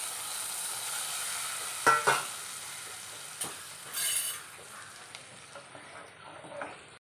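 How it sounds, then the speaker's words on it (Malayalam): Hot tempering of chilli and curry leaves is poured into an ash gourd buttermilk curry, giving a couple of sharp splashes followed by a fading sizzle and light stirring clinks nearby. "താളിപ്പ് ഒഴിച്ച് കൊടുക്കാം."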